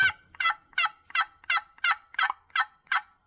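A nearly 40-year-old hand-operated turkey call produces a rapid series of about nine raspy yelps in an even rhythm, close and clear with no talking over it.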